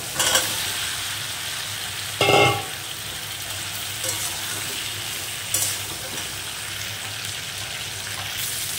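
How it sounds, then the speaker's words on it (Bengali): Ridge gourd and tomato fry in a pan, giving a steady sizzle with a few brief louder bursts as the vegetables are stirred. No one speaks. "এবার আমি কেটে রাখা ঝিঙে কটা দিয়ে দেবো।"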